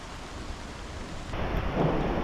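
Steady rain falls during a mountain hike to Lake Blanche in Utah, a broad hiss that swells louder and denser midway through, with a faint low rumble beneath.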